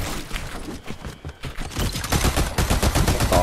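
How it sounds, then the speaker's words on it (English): Rapid bursts of gunfire crackle and boom through a Fortnite match, with several sharp shots clustered near the start and denser, heavier firing packed into the second half, loud and close. "Let me try this shotgun, I guess."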